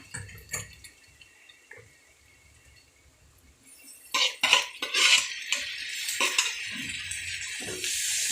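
Tomatoes are stirred into a pan of lightly sautéed ingredients for dried fish thokku, with a few scattered clinks at first, then wet scraping and sizzling that grows louder and steadier.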